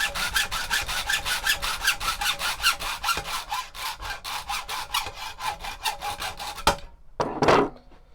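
Hand saw cutting through a seax knife handle part made of HDPE or polypropylene-type plastic, with copper and steel pieces, in a no-forge knife build: rapid, steady back-and-forth strokes, close and loud, ending with a few rough scraping strokes.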